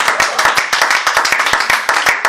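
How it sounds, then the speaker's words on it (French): A church congregation at a French-language worship service claps together in quick, steady rhythm, sharp hand claps close and loud with no voices over them. "Non, donne une bonne acclamation."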